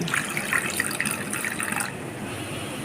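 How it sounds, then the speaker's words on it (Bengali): Water poured into a mixer grinder jar while cooking a spiced Bhola fish curry, a steady close splashing gush that trails off toward the end, with no talking. "মিক্সির জারের মধ্যে দিয়ে দেব জল"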